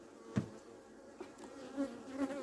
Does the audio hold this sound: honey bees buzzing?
yes